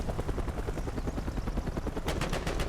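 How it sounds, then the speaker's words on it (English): A helicopter's rotor chops through a battle in the video game Mercenaries 2, its rapid pulsing beat tangled with loud bursts of gunfire and no speech. "That helicopter noise is making me paranoid."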